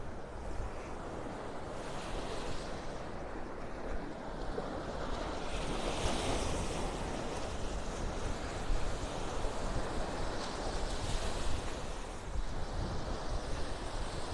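Waves wash onto Vanderbilt Beach in North Naples, Florida, mixed with steady wind buffeting the microphone, a continuous broad rushing surf with gentle swells in loudness and no talking.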